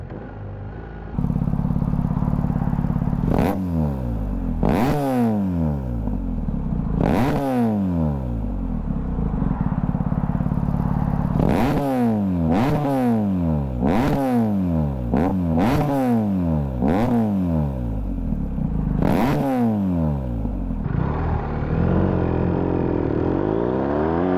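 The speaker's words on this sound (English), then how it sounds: "this is how this bike should sound if I didn't feel so guilty about how loud it is" BMW R1250R motorcycle with a loud LeoVince aftermarket exhaust, its DB killer removed, idling close by, then blipped through a series of sharp revs that rise and fall in quick succession.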